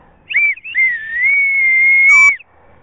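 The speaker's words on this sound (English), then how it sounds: "The kids love to blow their whistles" Whistle blown by kids on a wooded state park trail, a loud, clear, sustained high tone lasting about two seconds after a brief opening chirp, with no talking.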